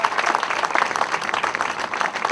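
Audience applause and cheering for blues musicians at a Blues Foundation Blues Marker ceremony, a dense, steady wash of many hands clapping throughout, loud and sustained with scattered voices mixed in.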